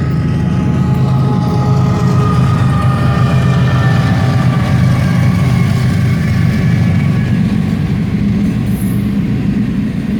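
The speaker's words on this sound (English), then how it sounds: "Oh, here comes the train." A train rolls past nearby off a Route 66 back road, a loud, continuous heavy rumble with grinding rail noise and faint metallic squeals that stays steady the whole time.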